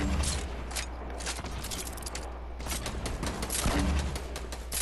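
Rapid gunfire rattles in an arena shooter video game, with dense overlapping automatic bursts and sharp cracks that continue steadily throughout at a fairly loud level.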